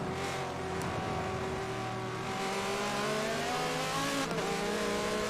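Engines of a Nissan GT-R and a Bentley race car roar steadily in a Le Mans 6-hour racing video game, a continuous, loud whine whose pitch climbs and shifts as the cars accelerate, with no voices.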